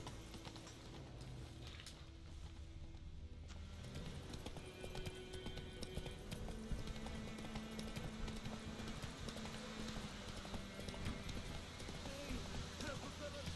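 Hooves of Roach, the horse in The Witcher 3, clip-clop steadily at a trot or canter through the whole stretch, with game ambience and a voice talking over them.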